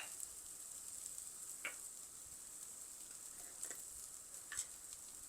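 Mutton curry sautéing in a pan, a quiet steady sizzle with a few soft stirring scrapes, no voices.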